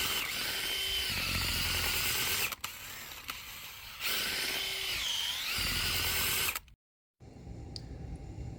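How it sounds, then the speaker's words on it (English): A power drill fitted with a small garden auger bit whirs and grinds as it bores a hole in the ground to reset a mailbox, in two long close bursts followed by a brief stop and a quieter restart. "see how good I can get that hole made with just this little auger bit"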